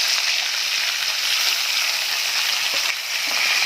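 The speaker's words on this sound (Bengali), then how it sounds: "চলো এদিকটা হালকা ভেজে নিই।" Rohu fish sizzles steadily in hot oil in a pan, a dense continuous crackling hiss that stays loud and even throughout, with no talking.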